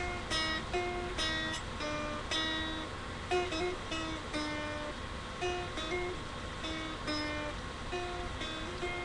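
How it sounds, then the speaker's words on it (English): Slow hammer-on and pull-off phrase on an acoustic guitar, part of a riff: a steady run of distinct plucked notes that ring and decay one after another, moderately quiet, with no talking. "Then you're gonna do a hammer on and pull off."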